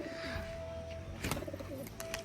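Domestic pigeons at a home loft on a cloudy day, with soft cooing and bursts of wing flapping as the birds take off, fairly close against steady outdoor background noise.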